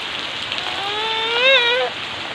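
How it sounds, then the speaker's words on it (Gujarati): Heavy rain pours down in a village, a steady broad hiss lasting the whole moment, with a brief rising tonal voice or call passing over it midway. "કેટલો વરસાદ પડે છે। ઓચિંતા જ વરસાદ ચાલુ છે।"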